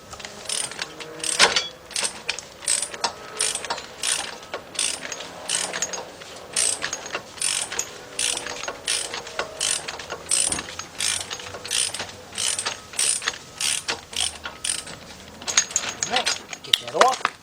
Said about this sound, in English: you're holding this wrench right here on the nut, and it's going to be loosening that nut off